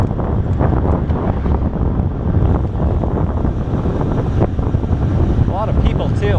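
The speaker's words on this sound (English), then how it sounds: "It's a bit windy though." Strong wind buffets the microphone during an evening bike ride along a harbour front, a continuous loud rumble with faint voices and street sounds underneath.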